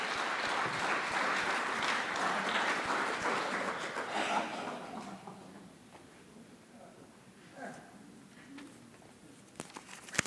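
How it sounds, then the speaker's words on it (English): Audience applause for a stand-up comedian taking the stage at a family presentation, a dense patter of clapping that swells, then thins and fades out by the halfway point, leaving a quiet room with a few scattered claps and small noises. "Ladies and gentlemen, give it up for Eric Oñate!"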